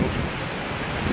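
Wind buffets a microphone near a beach, a loud, close, continuous low rumble and hiss filling the whole moment with no voice.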